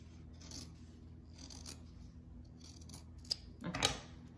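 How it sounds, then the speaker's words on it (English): Scissors snip quietly through fabric along pencil lines for a sewing project, a few soft intermittent cuts and rustles with a small metallic tick, close and faint. "I'm gonna take some scissors and I'm just gonna cut where our pencil lines are."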